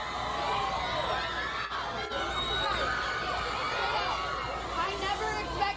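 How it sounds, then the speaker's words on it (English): A large crowd at the TanaCon convention makes a faint, distant murmur of chatter with scattered cheers and laughter blending into one steady hubbub. "There's the crowd."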